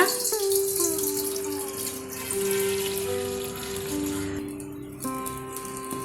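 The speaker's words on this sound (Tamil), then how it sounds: "இப்போ நம்ம கொஞ்சமாக தண்ணி சேர்த்துக்கலாங்க" Water pours steadily into a metal pot of milk on a new stove, its pitch rising gradually as the vessel fills, with a brief pause and restart near the end.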